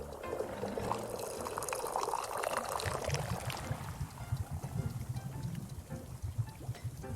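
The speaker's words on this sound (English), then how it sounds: "Let's go and pour us a cup of that" Messberry tea poured into a cup in the video game WanderStop, a steady close liquid stream with a brighter filling trickle early on that settles into a lower, continuous splashing pour running for several seconds without talk.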